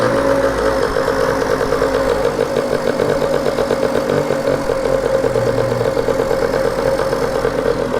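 A Peugeot Fox moped engine running at close range, a loud, steady buzzing putter with a fast knocking rhythm and no clear rise in revs.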